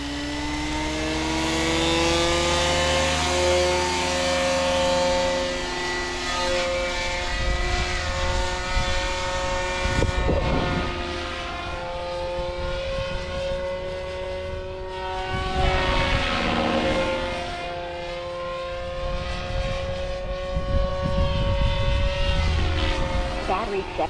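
The motor of a Goblin 500 RC helicopter spins up and holds at speed in flight, a loud whining tone that rises, dips and surges again over a rumbling drone.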